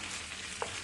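Chicken adobo crisping in its own rendered oil, a steady broadband hiss of frying throughout with a brief brighter pop near the middle, no voices.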